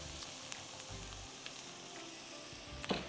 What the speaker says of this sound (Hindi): प्याज को अच्छी तरह आपने ब्राउन करना है, घी में या मक्खन में, तेल में,